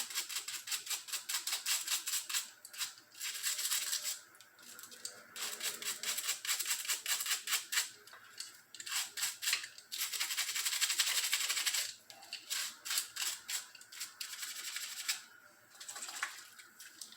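Dirty bicycle parts, with bolts and washers removed, being scrubbed clean with a brush, making steady close rhythmic scratchy strokes in long bursts broken by brief pauses, with a faint watery wash underneath.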